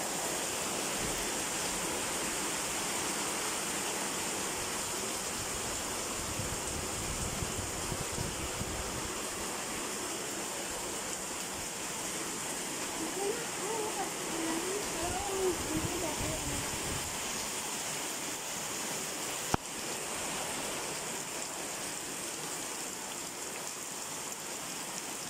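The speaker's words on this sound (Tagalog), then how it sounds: "lumalakas na ang hangin" A steady, roaring rush of strong wind during Typhoon Rolly in the Philippines, constant and broadband throughout, sounding like heavy weather outdoors with a single sharp click partway through.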